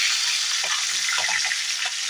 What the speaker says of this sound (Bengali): আপনাকে ততক্ষণ সময় দিতে হবে মাছের মাথাটা ভালো করে ভাজা হওয়ার পর্যন্ত